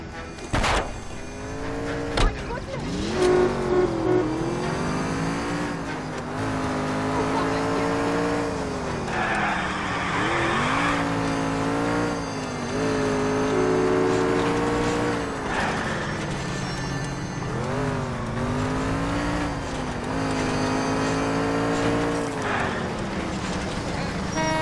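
A car accelerating hard during a chase in the video game L.A. Noire, its engine revving up and down in long rising sweeps with tire squeals, loud and continuous for the whole stretch while voices talk over it.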